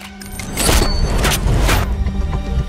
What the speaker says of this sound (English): Aim it and pull the trigger.